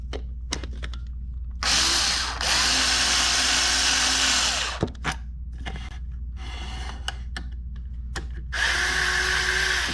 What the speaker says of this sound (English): I'm using my drill press.